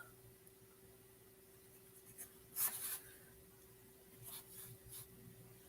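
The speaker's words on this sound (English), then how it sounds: "I love this dip pen. It's a blue pumpkin nib." A dip pen fitted with a blue pumpkin nib scratches faint, brief strokes across paper, a few soft scritches spread out over quiet room hiss.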